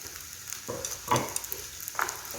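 Seafood and spaghetti are stir-fried in a pan, giving close sizzling with a few scraping stirs and tosses over about two seconds, with no voices.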